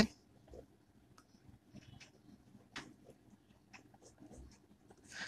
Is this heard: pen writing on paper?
yes